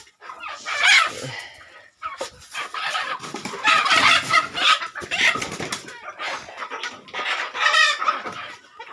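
Several young chickens cluck and squawk close by while pecking at feed on a farm, in busy, overlapping bursts, with brief pauses between flurries.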